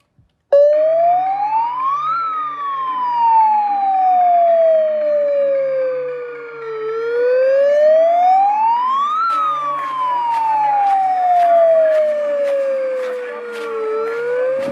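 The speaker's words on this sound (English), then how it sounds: "we used the sirens at protests" A siren at a protest wails, rising and falling in long, slow sweeps, loud and continuous, with a steady hum of traffic beneath it.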